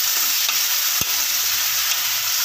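Egg kurma masala sautéing in a pan gives off a loud, even hiss of frying, broken once by a short knock of a spoon or spatula against the pan, with no voices.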